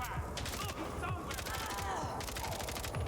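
Pistol gunfire in the video game Mindseye, rapid repeated shots in a steady volley over busy game noise, fairly loud throughout.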